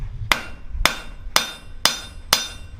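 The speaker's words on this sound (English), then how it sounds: "We're going to use half on, half off blows." Five evenly spaced, ringing blacksmith hammer blows land on hot steel as a drawer pull leaf is forged on the anvil, struck half on, half off the edge, each strike sharp and close with a brief metallic decay.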